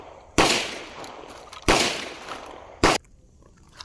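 Three loud, close shotgun blasts from a Mac 1014 and a Beretta 1301 Tactical Mod 2, spaced about a second apart, each a sharp crack with a ringing tail, the last one shorter.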